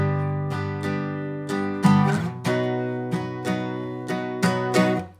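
Guitar barre chords strummed in a classic folk down, down, up, up, down, up pattern, about ten clear ringing strokes over five seconds, close and alone with no talking.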